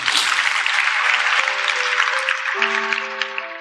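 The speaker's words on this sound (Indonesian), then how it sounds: "kasih tepuk tangan dong untuk Tuhan Yesus" A church congregation applauds for Jesus during a service. Dense clapping opens loudly and thins slightly over a few seconds, while a sustained keyboard chord and tone sound underneath.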